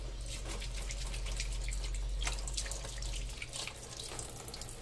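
A water tap runs steadily with a constant hiss and splashing, and the flow thins partway through, with no voices.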